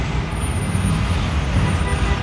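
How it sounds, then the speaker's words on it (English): Dense New York City street traffic rumbles steadily as a heavy truck rams through, a continuous loud roar of engines with no pauses. "this truck is ramming through traffic"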